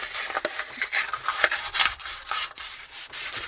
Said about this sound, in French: je vais tout de suite poncer comme ça sera plus facile que de poncer debout séparément